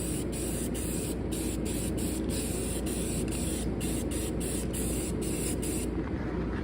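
A near-empty can of flat black Rust-Oleum spray paint hisses in one long, steady, loud burst close by, with faint rhythmic ticks through it and no talk, during bodywork on a 1958 Plymouth.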